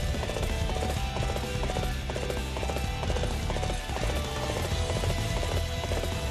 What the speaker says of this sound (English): I said get on the horse.